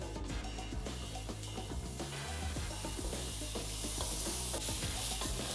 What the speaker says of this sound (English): And you just saute.